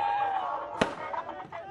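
One sharp firecracker bang goes off at a farmers' celebration on the NH 44 highway in Haryana, cutting through a noisy bed of crowd sound and music, with smaller pops following.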